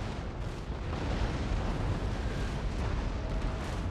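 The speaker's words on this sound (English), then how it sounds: "Alright, the front cannons are shooting." Ship cannons firing during a naval battle in the game Empire: Total War, a rolling rumble of low booms and muffled blasts that blur into one dense barrage with no talking.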